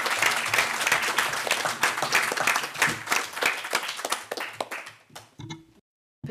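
Applause from the room at a municipal council meeting in Pont-Château, a loud sustained round of clapping that thins into a few scattered claps and then stops.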